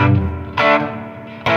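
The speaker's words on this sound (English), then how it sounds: "Nice reverb that's not overwhelming." Distorted electric guitar chords ring through an IronHorse Heritage 1x12 combo amp with reverb, each strum sustaining with a reverberant tail, played loud and close.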